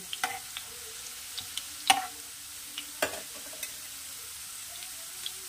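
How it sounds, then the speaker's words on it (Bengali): Potatoes fry in a pan with a soft, continuous sizzle, broken by a few sharp taps and clinks as chopped onion is added and stirred in, close and quiet without talk. "এই আলু ভাজা হতে হতে আমি এর মধ্যে দিয়ে দেবো এবারে পেঁয়াজ কুচি"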